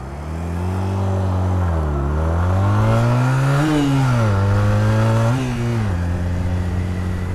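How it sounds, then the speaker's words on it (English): A Honda Rebel 250 (CMX250) motorcycle engine revs repeatedly up close in traffic, its pitch climbing and dropping through several throttle swells over a constant drone. "I always feel like I'm revving the nuts off this thing"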